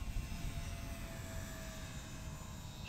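An Eachine Spitfire or P51D Mustang RC model plane flies at three-quarter throttle on a windy day, its electric motor giving a steady, thin whine over a continuous bed of rushing wind noise, with no voices.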